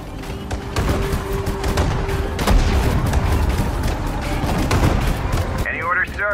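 Battle noise from the Sudden Strike 4 video game, Pacific War Battle of Saipan: dense rolling gunfire and booming artillery blasts in a continuous loud barrage, with a brief voiced unit response near the end.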